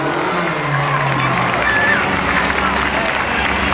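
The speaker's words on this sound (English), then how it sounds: "How about a round of applause?" Crowd applause at a dirt track race event on Mother's Day, continuous broad clapping and cheering mixed with crowd noise, with faint whistles and engine sounds in the background.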